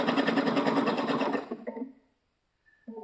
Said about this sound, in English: play with your stitch width and length before you start stitching on your fabric or on your finished piece